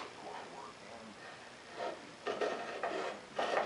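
Mortise marking gauge scribing a wooden workpiece for a hand-cut mortise and tenon joint, several short scratchy rasping strokes close by, growing firmer toward the end in a quiet workshop.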